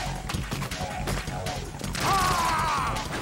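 Gunfire in the video game Metal Gear Solid 2, a burst of rapid shots with crashing impacts, moderately loud, followed by a rising whine while a person talks over it.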